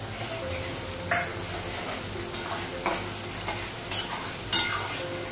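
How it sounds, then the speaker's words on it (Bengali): Onions frying in a pan with ginger and garlic paste for a Bengali home-cooked dish: a steady soft sizzle underneath, broken by several sharp stirring scrapes of a spoon against the pan, close by and quiet. "পেঁয়াজটা একটু লাল করে ভেজে নেব"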